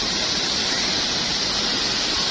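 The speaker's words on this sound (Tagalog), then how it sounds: "Dire-diretso overflowing water siya." A resort's overflowing water pours out in a constant loud roar, like a small waterfall heard up close, steady and unbroken with no voices.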